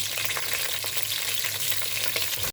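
Crabs stir-fried in hot oil crackle and hiss steadily up close, with rhythmic scraping and tossing from stirring layered over the sizzle, ending in an abrupt cut-off.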